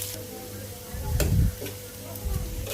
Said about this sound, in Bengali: এই যে পেঁয়াজটা ভেজে নিচ্ছি